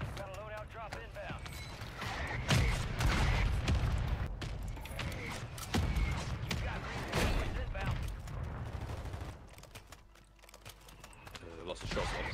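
Repeated shotgun blasts from a Riveter shotgun with Dragon's Breath rounds in Warzone, firing in bursts amid game clatter and footsteps, loud and close, with players talking over the action.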